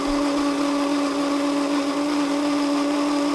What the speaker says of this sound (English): we're going to puree those till smooth